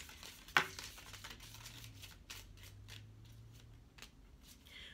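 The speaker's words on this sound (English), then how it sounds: "let me pull you guys some oracle cards" Oracle cards being pulled and shuffled by hand for a reading, giving soft, intermittent papery rustles and a few sharper card snaps, fairly quiet over a low steady hum.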